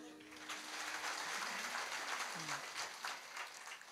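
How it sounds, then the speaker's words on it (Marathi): Clapping from an audience at a bhajan gathering, a dense continuous wash of many hands with faint rhythmic pulses, mixed with a murmur of voices. "टाळी वाजवावर जोरात."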